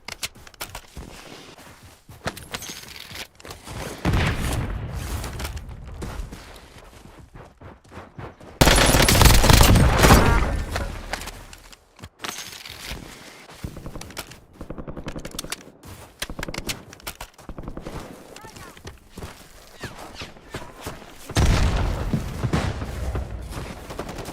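Video game gunfire: bursts of automatic fire and single shots come in uneven clusters, with a heavy, dense barrage in the middle and another near the end, mixed with footsteps and scraping between volleys.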